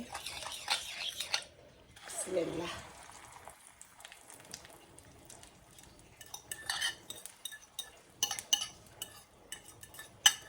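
Ingredients for an egg and chicken mince dish mixed in a bowl with coriander leaves, a spoon scraping and clinking lightly against the sides in soft, irregular strokes, with quiet pauses between.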